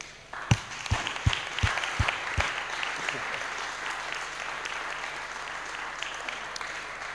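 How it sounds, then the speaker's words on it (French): Press conference audience applauding to welcome Tom Duquesnoy, opening with a few loud, distinct claps that quickly swell into steady, moderate applause before easing slightly toward the end. "Je vous demande du coup d'accueillir chaleureusement et d'applaudir Tom Duquesnoy"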